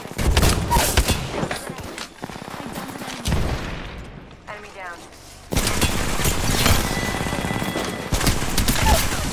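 Automatic weapon fire in the battle royale shooter Apex Legends, loud rapid bursts with explosions, broken by a short quieter gap, while a synthetic character voice calls out in between.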